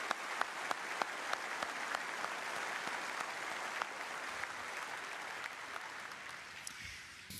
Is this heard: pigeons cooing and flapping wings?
no